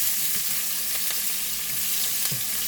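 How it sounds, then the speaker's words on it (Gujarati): Chopped onion fries steadily in a pan over low heat, a dense, even sizzle running throughout with faint scrapes and ticks, no voices. "તે નાખી દીધી, આપણે બ્રાઉન કલરની થવા દઈએ"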